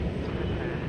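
A wide-body airliner at DFW Airport produces a continuous, broad jet roar at moderate distance, steady and unbroken throughout.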